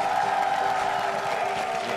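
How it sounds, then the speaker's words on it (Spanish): Studio audience at a Got Talent Chile quarterfinal applauds and cheers a performer, a dense, steady wash of clapping and crowd noise with a sustained musical tone underneath, loud and continuous throughout. "Fuerte el aplauso para Erin."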